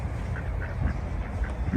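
Ducks quack in a repeating series of short calls beside a quay in Angers, faint under steady outdoor background noise, with no one speaking.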